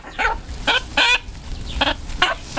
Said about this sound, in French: Ça, c'est le vrai poulet, mon ami. Poulet du village.